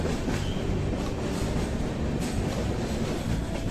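Goa Express passenger train running along a high-elevation stretch of Indian railway, heard from on board as a loud, steady rumble with rhythmic wheel clatter and no talk.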